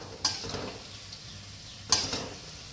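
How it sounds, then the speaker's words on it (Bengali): Palm fritters (taler bora) frying in hot oil are stirred, with two sharp scrapes of a utensil against the pan over a steady sizzle. "নাড়িয়ে নেওয়া হচ্ছে যাতে ভালোভাবে ভাজা হয়ে যায়"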